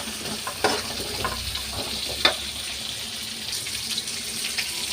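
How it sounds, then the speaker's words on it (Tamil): Water is poured into a pan of sautéing drumstick curry, bringing a steady sizzle and gurgle with a few stirring clinks and knocks, close up and without speech. "தண்ணி கொஞ்சம் ஊற்றினோம்"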